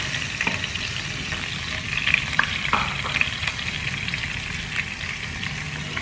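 Cabbage fries in a hot pan, a steady crackling hiss with occasional sharper pops and stirring scrapes.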